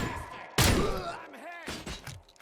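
A sudden loud burst of gunfire erupts in RoboCop: Rogue City, followed by shouted voices and further thumps.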